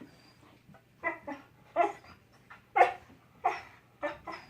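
A dog being trained to go to a mat gives a run of short whimpers and yips, then sharper barks, close and fairly loud, repeating roughly every half second to second over a quiet background.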